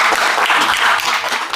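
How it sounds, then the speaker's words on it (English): Audience applause at a cosplay spotlight show, a dense steady wash of clapping from a crowd, loud and continuous throughout with no talk over it. "Give her a nice round of applause."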